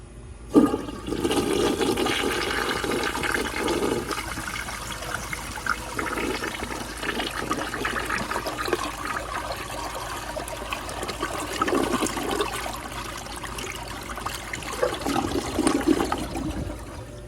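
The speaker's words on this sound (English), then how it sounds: "I am flushing on a partially clogged siphon jet, because I like it. So let's give it a flush." A restored 1958 Standard Cadet toilet with a partially clogged siphon jet flushes in a long, steady rush of water, swelling and gurgling in recurring surges before trickling on at close range.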